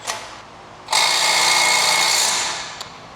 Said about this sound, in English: That 90 degree gun's the one you want to use.